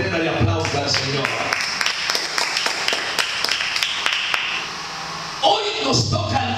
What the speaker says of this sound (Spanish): Denle una ofrenda de aplauso al Señor.